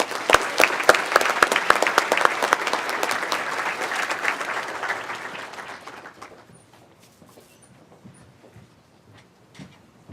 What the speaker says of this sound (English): Please join me in giving a round of applause to our first group of nominees.